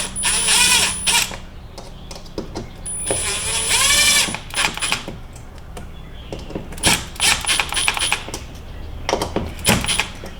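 Power gun at its lowest torque setting driving air intake fasteners on a BMW M340i, several short whirring bursts separated by clicks and clatter of parts.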